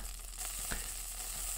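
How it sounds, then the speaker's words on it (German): Meat sizzles steadily on a grill in the Yakiniku Simulation video game, a constant close frying hiss with a brief louder crackle partway through and no talking. "Mal so langsam brutzeln, aber dann höre ich auf."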